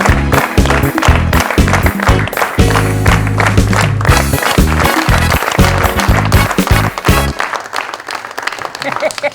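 A studio audience applauds to welcome Faisal Qazi on a television show, dense sustained clapping with rhythmic music beats underneath, loud and close, fading near the end.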